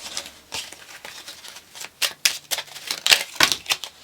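Tarot cards being shuffled produce irregular bursts of crisp, close riffling and slapping clicks, several quick flurries in a row with brief gaps and no talking.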